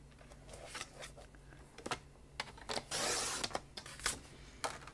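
Copper clay cardstock sliced to a 4 1/4 by 11 inch card base, with several short scraping and rustling strokes and one longer swishing cut near the middle, close and fairly quiet.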